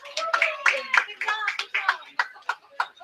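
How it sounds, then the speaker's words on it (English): A small crowd at a bowling team championship award gives scattered rounds of hand clapping, distinct individual claps in an uneven rhythm, fairly close and moderately loud, thinning toward the end. "Let's give everybody a big round of applause."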